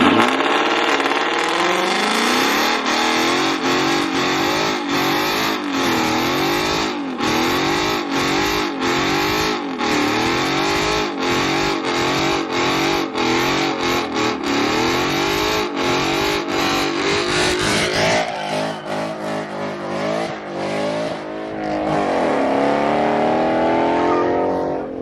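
Ford Mustang engines revving hard during burnouts at a Mustang-only car show, a loud continuous roar with rapid rhythmic rev bursts, then a shift to a higher, rising wail near the end; no talking.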